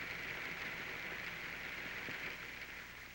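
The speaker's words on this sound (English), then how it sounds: "Now let it rain." Rain falls on umbrellas and parasols, a steady soft hiss that holds evenly throughout with no voices.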